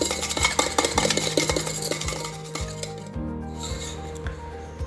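A whisk beats melted butter and oil in a bowl, giving quick rhythmic scraping and clinking strokes close up that ease off slightly toward the end.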